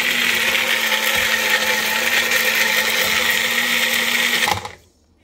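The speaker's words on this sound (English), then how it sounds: "We're going to put that in and blend that up as well." Blender whirring steadily at high speed through a berry smoothie with cocoa beans, a loud, even motor drone that runs for about four and a half seconds, then cuts off and spins down to quiet.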